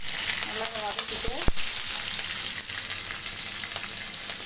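Ginger and green chilli sauté in hot oil in a pan for rava kichadi, a steady close sizzle with a couple of sharp utensil knocks and light stirring scrapes.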